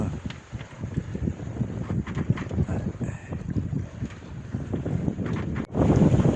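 A sailboat sails close to the wind at nearly six knots, with steady rushing water along the hull and buffeting wind noise on the microphone, growing louder near the end.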